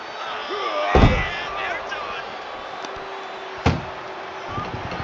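A door slams shut in a wrestling video game, two sharp heavy bangs about three seconds apart over crowd ambience, with a commentator talking.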